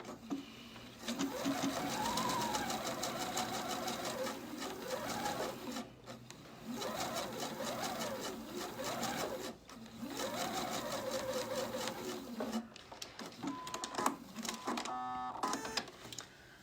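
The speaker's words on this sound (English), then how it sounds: "So I'm going to stitch this next row close to the first, about 1/8 of an inch away into the seam allowance." A sewing machine stitches a gathering row along a sleeve seam allowance, a close, fast rhythmic whir in several runs of a few seconds each, separated by short pauses.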